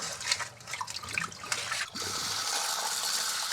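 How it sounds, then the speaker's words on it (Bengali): Salted fish being rinsed by hand in water, with running and trickling water and splashes that settle into a steady, close pour toward the end. "প্রথমে মাছগুলো একটু ভালো করে ধুয়ে নেব"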